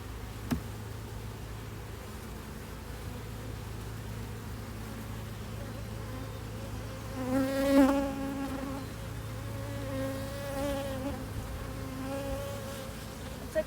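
Honey bees buzz around an open hive while it is being split, a faint steady drone with a brief swell as a bee passes close to the microphone, with no talking.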